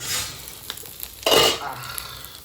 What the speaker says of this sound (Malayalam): ഏകദേശം ഇങ്ങനെ ഫ്രൈ ആക്കി എടുക്കണ്ടോ ഈ വലിയ മീൻ ഞാൻ തിരിച്ചിട്ടപ്പം